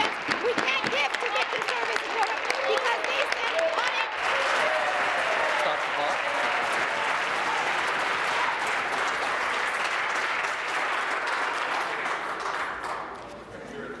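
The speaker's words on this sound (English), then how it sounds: "the outburst of applause and standing ovation on the government side." Sustained, loud applause and a standing ovation from a large crowd in a parliamentary Question Period, dense clapping with some cheering that holds steady for the whole stretch before easing slightly at the end.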